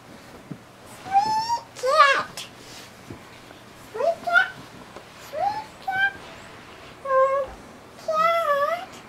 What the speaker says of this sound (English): Sweet cat.